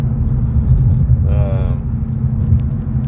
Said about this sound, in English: I have a pretty noisy wheel bearing on the right rear